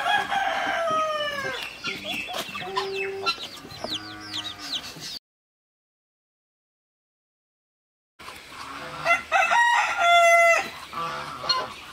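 A rooster penned in a netted enclosure crows loudly and close, with clucks and other fowl calls, a silent gap midway, then another round of crowing and clucking.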